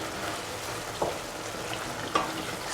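Mushroom and ash gourd stew ingredients frying in a pan, a soft steady sizzle with two brief scraping stirs of a utensil, quiet and close.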